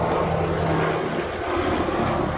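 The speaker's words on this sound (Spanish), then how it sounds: "Helicóptero, esperemos que pase." A helicopter passes overhead, a loud continuous engine roar filling the whole moment and staying steady without any break.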